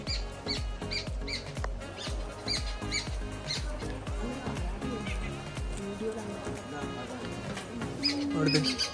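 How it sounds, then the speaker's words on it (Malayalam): An unidentified bird calls with short repeated squawks and coos amid a busy, cluttered background of rhythmic knocks and ambient noise, fairly loud and continuous. "എന്തോ ഒരു പക്ഷി കരയുന്നുണ്ട്."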